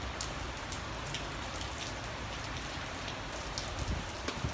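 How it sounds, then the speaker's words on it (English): Rain mixed with sleet falling steadily outdoors in Sacramento, a dense, even hiss with scattered sharp pattering ticks from drops and ice striking nearby surfaces, continuous throughout with no talk. "This rain, sleet, bro,"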